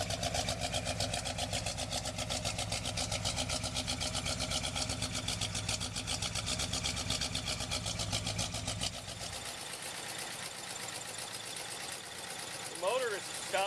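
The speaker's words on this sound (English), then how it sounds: "let you get a feel for the sound of the motor from the rear" Stock 396 Chevy V8 with bolt-on modifications, including an Edelbrock intake, in a 1968 Chevelle SS396 convertible, idling steadily from behind the car with a fast, even rumble, then dropping to a quieter, smoother idle near the end.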